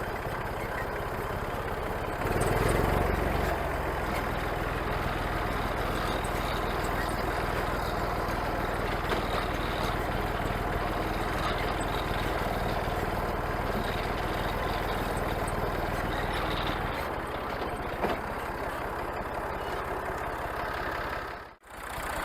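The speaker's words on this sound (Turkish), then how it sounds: "Şimdi traktörümüzü artık kapatacağız." A Massey Ferguson 135 tractor engine idling steadily among olive trees, a continuous near rumble that holds for a long stretch before cutting out at the end.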